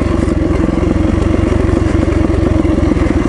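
Motorcycle being ridden on the road, a loud continuous engine drone with a pulsing exhaust beat, heard close and steady throughout with no talking.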